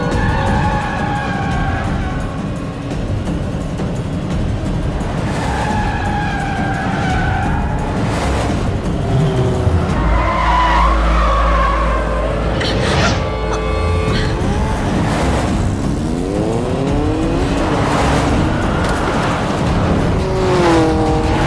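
A motorbike speeds through a chase in an action film scene, with a loud, continuous engine roar, bursts of tire squeal, and tonal sounds layered over it throughout.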